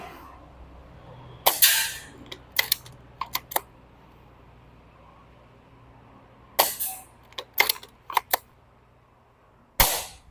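An Ares Amoeba Striker AS01 BB pistol fires 0.25 g pellets at a target about 20 meters away, with sharp, loud snapping shots in spaced clusters of two to four and quiet gaps between them.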